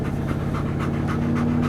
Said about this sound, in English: In case you're hearing all that panting going on